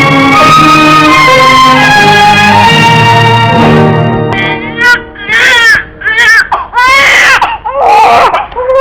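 An infant cries in an old Tamil film courtroom scene, a loud wailing cry that starts out under swelling music and then breaks into repeated sobbing bursts. A background voice comes and goes.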